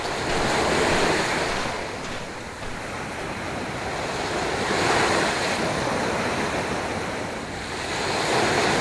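Ocean surf on the Florida coast rolls in with a broad, steady roar, swelling and easing as waves break, with wind buffeting the microphone throughout.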